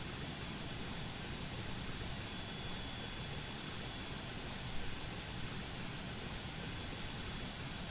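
Bede BD-5J miniature jet in MS Flight Sim, a steady, even jet engine roar and whine holding constant throughout, moderately loud with no talking.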